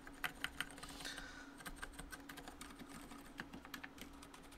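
Rapid typing on a mechanical keyboard fitted with lubed Zeal switches, a steady stream of soft, muted clacks with a few sharper taps, close and fairly quiet, with no talking.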